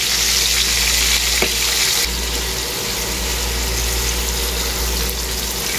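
A large batch of onions fries loudly in a pan, giving a dense, constant close-up sizzle that holds steady throughout with one brief faint knock.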